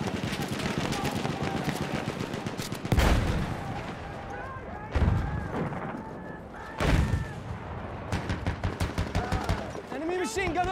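Bursts of gunfire from an enemy machine gun in a World War I shooter on the Achi Baba map, mixed with heavy booms, in several loud volleys with game voices calling out between them.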